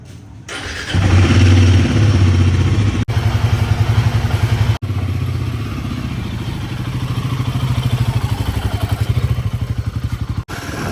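A motorcycle engine starts and settles into a loud, steady, throbbing idle to warm up before a ride, with a couple of brief cutouts and slight rises in revs.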